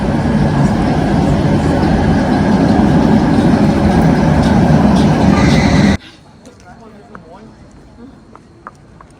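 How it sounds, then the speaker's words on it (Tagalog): An old city tour train rumbles through Erfurt, Germany, its loud engine drone and rolling noise filling the scene under someone talking, before it cuts off abruptly to quiet street ambience. "Ah, yung city tour train nila, oh."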